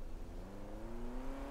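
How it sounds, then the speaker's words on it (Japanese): A car approaches: a low engine hum with a slowly rising whine, moderately close and steady over a short stretch, with no voices. "車が来る。"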